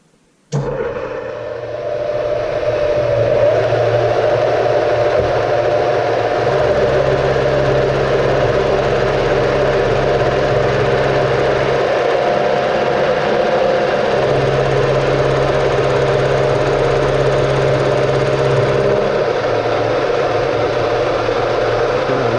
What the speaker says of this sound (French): mais je laisse aller mon tourteau jusqu'au bout